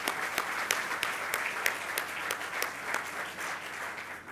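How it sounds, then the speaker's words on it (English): Audience applause at an event with the governor, steady clapping from a sizeable crowd over several seconds, fairly even and moderately loud, with no words spoken. "All right, a big round of applause for Clint and for all of our speakers."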